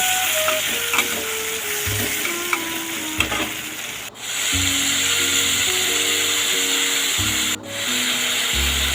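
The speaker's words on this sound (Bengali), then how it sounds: "ভালো করে মশলাটা কষিয়ে নিব" Spice paste with ginger and tomato sizzles and frying in a pan, with steady scraping and rubbing strokes of a stirring spoon, close and continuous, briefly pausing twice.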